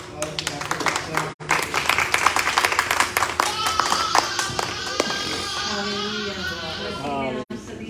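Church congregation at a Sunday service clapping in dense, steady rhythm for several seconds, with voices and singing-like tones mixed underneath and a brief pause near the middle.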